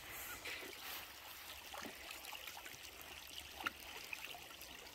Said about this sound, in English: This little stream here, I'm gonna wash my hands.